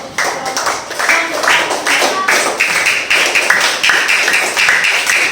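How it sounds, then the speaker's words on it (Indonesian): A group of students in a classroom claps together, a dense, steady patter of many hands that keeps up evenly and fairly loud for the whole stretch with no talk. "beri tepuk tangan dulu."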